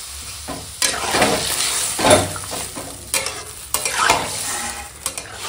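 Sautéed vegetables stirred in a pan as water goes in, with loud scraping strokes and sizzling bursts, close up and without talk.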